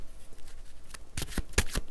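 Tarot cards being shuffled close by, quiet at first, then several crisp riffling bursts in quick succession near the end.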